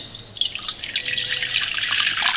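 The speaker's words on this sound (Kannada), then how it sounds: "ಫಸ್ಟು ಒಂದು ಪಾತ್ರೆಗೆ ನೀರು ಹಾಕ್ಕೊಳ್ಳೋಣ" Water streams into a cooking pot with a continuous splashing gush that swells slightly after the first moment and keeps going steadily.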